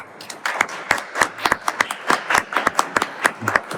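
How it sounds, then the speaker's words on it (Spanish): Audience at an electrical industry event clapping in sharp, distinct individual claps close by, a loose irregular rhythm from a fairly small group that builds and sustains for several seconds. "que les pido un fuerte aplauso."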